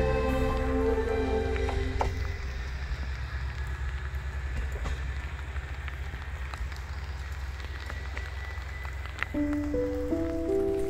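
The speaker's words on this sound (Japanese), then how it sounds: "列車を降りた瞬間雨が降ってきた" Steady rain patters at rural Echigo-Suhara Station in Niigata over a low rumbling train hum, with a few brief tonal electronic chimes near the start and end.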